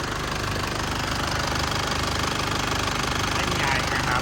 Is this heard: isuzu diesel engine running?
yes